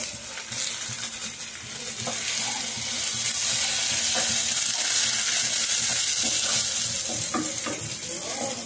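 Curry leaves frying in oil for a beef liver fry give a dense, bright hiss that swells and holds steady, with faint clinks and stirring noises throughout.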